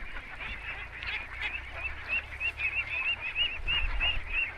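Ducks on a riverside duck farm keep up a continuous nasal quacking and honking chorus, moderately close, over low background rumble, with no talking.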